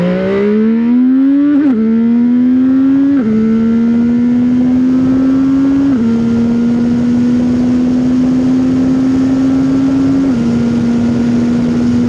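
A CFMOTO 675SS sport motorcycle engine revs hard on a highway and climbs through several gear shifts, pitch rising then dropping at each change, with steady wind roar throughout.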